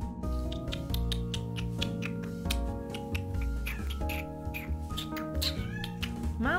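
A domestic cat meows over steady, continuous background music, its calls rising briefly above the dense musical bed rather than standing alone.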